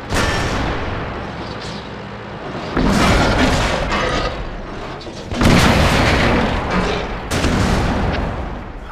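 Heavy tank cannon fire in the video game World of Tanks, with several loud booming shots and rumbling blasts spread across a dense, continuous battle din.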